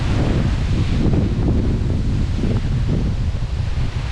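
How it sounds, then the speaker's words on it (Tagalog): Steady outdoor wind gusting against the microphone in a forest area, with rushing broadband noise and a faint leafy rustle throughout, loud and continuous with no voices. "Sarap ng hangin."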